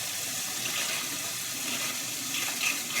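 Tap water runs steadily from a kitchen faucet to wet lasagna noodles, a continuous close hiss of flowing water for about three seconds with no talking.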